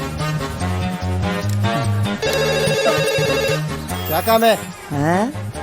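A phone ringtone plays over music and voices, a repeating electronic tone that is clear but partly buried in the busy mix.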